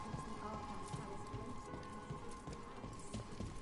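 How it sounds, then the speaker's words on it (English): Steady rain in Dragon Age: The Veilguard, a soft continuous patter at low level with faint scattered drops and background ambience, no voices. "Raining again."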